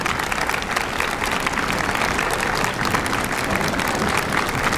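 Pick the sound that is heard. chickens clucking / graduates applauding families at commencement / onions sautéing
graduates applauding families at commencement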